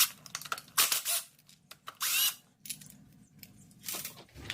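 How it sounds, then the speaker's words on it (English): Bolts being loosened and removed from a Honda Prelude oil pan with hand tools: a run of irregular clicks, ratchet squeaks and metallic clinks, close and moderately loud, with short quiet gaps between bursts. "now we're gonna take out all this 10mm bolts here"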